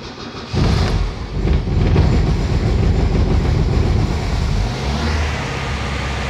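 A rebuilt Ford Del Rey car engine with a carburetor cranks and catches half a second in, then runs with a loud, rough, rumbling idle that stays steady and close.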